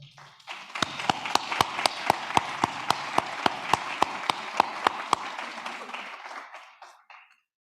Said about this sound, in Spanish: y todos nos merecemos un aplauso